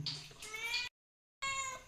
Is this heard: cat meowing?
yes